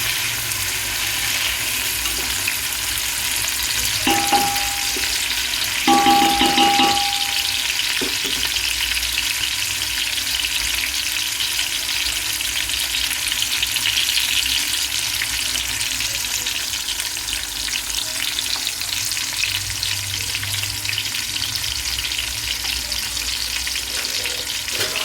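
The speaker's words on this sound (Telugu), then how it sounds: "చూడండి, ఆనియన్స్ అవన్నీ వేగుతూ ఉన్నాయి కదా." Onions fry for pulav in a pan, sizzling steadily and loudly up close, with a few brief clinks of stirring.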